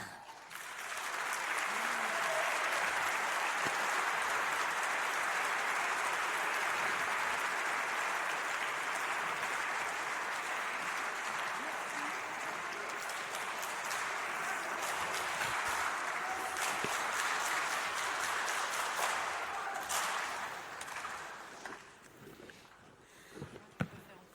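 Sustained applause from a large audience at an academy centenary event after Malagasy kabary oratory, dense clapping that holds steady for most of the time before tapering off into a few scattered claps.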